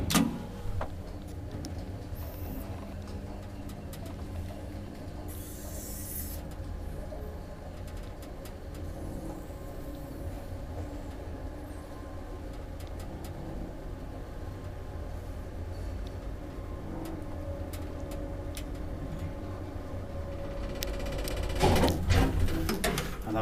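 Old Kone traction elevator in a Helsinki building running, a quiet steady hum and rattle with faint clicks, ending with a louder clatter as it stops.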